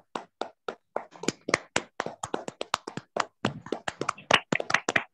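Online meeting participants clap with unmuted microphones, a string of sharp, separate hand claps in an uneven rhythm that stays fairly quiet and close, with no talking.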